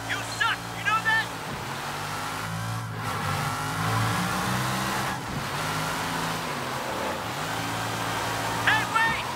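A car in the Sleeping Dogs video game drives at close range, its engine revving up and easing off in repeated swells, with faint game voices murmuring beneath the steady motor drone.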